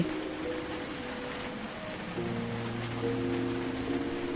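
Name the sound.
stormy rain outside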